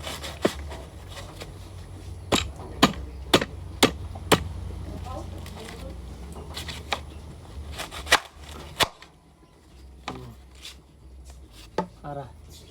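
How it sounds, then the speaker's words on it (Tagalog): A knife chops sweet corn cobs into pieces, landing sharp, irregular thuds on a cutting board, some in quick clusters, with someone talking in between and a quieter stretch near the end. "Tulo ka sweet corn atong hiwaon og kaisa kay di man siya maigo sa kaldero"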